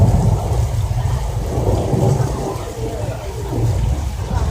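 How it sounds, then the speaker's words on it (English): Artificial rain pours steadily from tall spray spouts on a film studio set, a dense continuous hiss and rumble throughout, close and loud. "The rain that you see is sprayed from tall spouts in the sky."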